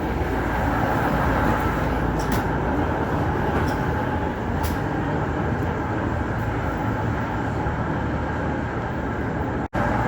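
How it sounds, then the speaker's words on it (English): A train pulls in at Bendigo railway station platform with a continuous loud rumbling roar of wheels and engine filling the whole stretch, a few faint high squeals on top and no speech. "Bendigo Station."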